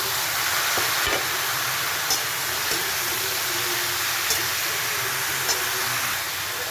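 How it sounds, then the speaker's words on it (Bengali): Steady frying sizzle with soft hiss as raw pumpkin goes into a pan of spices and oil for a Bengali pumpkin chhokka, with a few faint stirring clicks over an even, close background. "কুমড়োটা এবারে দিয়ে দেবো।"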